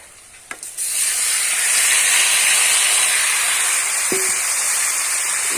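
Marinated chicken drops into hot oil with fried onions in a pan and sets off a loud, steady hiss of sizzling that holds close by for the rest of the clip, with a faint clink partway through.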